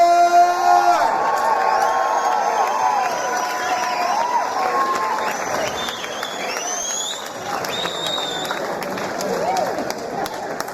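A fight crowd at a SuperFight 9 combat event cheers, claps and whoops for fighter Francis Diaz, a steady roar of mixed voices and applause with an amplified announcer's voice ringing over it.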